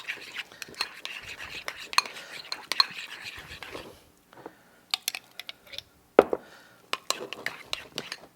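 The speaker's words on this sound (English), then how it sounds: "So I'm going to stir that up a little bit like this." A spoon stirs food in a bowl with scraping clinks and soft knocks in uneven bursts, close up, with a brief pause midway and a low murmuring voice underneath at times.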